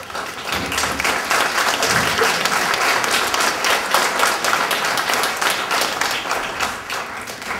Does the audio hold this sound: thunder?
no